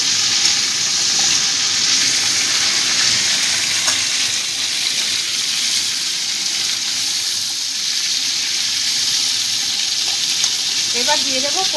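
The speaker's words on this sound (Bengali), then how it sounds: "এবার টমেটো দিয়ে দিলাম। টমেটোটা দিয়ে মিশিয়ে দিচ্ছি।" Tomatoes frying in a pan with greens stems, stirred and mixed, giving a steady, close, loud sizzling hiss throughout with faint scraping of the spoon toward the end.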